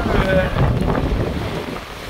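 A north-east wind blows hard across a sailboat under a genoa at sea off New Brunswick and Prince Edward Island, a loud continuous roar buffeting the microphone throughout.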